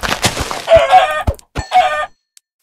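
Video-game chickens clucking in a forest area, a few loud close-up bursts of fowl calls in quick succession that stop abruptly.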